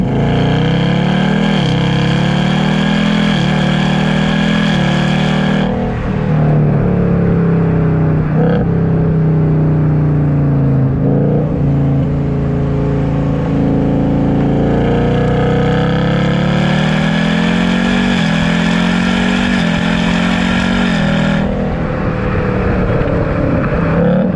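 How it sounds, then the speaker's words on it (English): A 2020 Ford Mustang GT with its Coyote V8 exhaust while driving: a loud, throaty engine drone rising and falling through repeated revs and gear changes, close and continuous with no talking. "the Coyote V8 is probably the best sounding stock V8 out of the factory"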